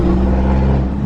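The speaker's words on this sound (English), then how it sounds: "the exhaust was way too loud" The loud exhaust of a Mitsubishi Evo 5 drones deep and steady with a rumbling, close-up tone for about a second, without any clear rise or fall in revs.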